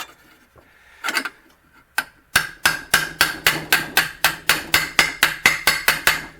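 A hammer strikes metal on an old anvil while beating out a dent in a Datsun 280ZX floor pan, a steady run of about fourteen sharp ringing blows following a few scattered taps.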